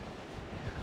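Strong wind on the far Southwest Australian coast, a dense steady roar buffeting the microphone, faint, in a brief burst with no talk.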